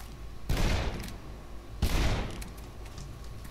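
Gunfire in the Shadow Warrior video game: two loud, booming bursts of shots about a second and a half apart, each ringing out and fading over a steady low background.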